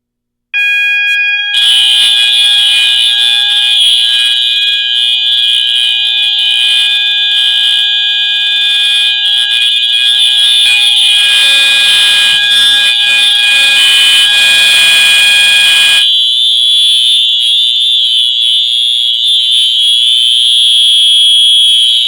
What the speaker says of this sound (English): So by setting off this heat detector, it will set off both systems.